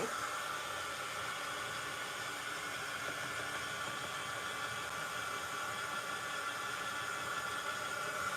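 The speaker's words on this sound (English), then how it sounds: "I don't know if you can hear me over this loud dryer" A craft heat tool used for art journaling blows with a steady, airy hiss and an even hum that runs unbroken at moderate volume, with no voices.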